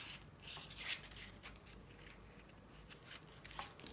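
Paper being cut slowly and carefully with a craft cutter whose blade is retracted, giving soft, close scraping and rubbing strokes with light clicks, quiet and without talk.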